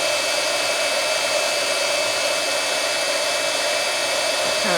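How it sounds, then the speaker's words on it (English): A heat tool melting embossing powder on glitter paper blows a constant, loud, even whine and rush of air right up close, with no talking over it. "then I'll just heat up my embossing powder until it all goes melted and shiny"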